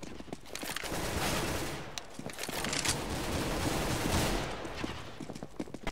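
Gunshots in a CSGO deathmatch ring out as rapid volleys, mixed with sharp single shots, loud and close, with brief pauses between bursts.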